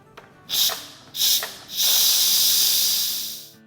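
Loud hissing bursts of steam venting from a pressure cooker cooking haleem, two short blasts followed by a longer sustained hiss that slowly fades.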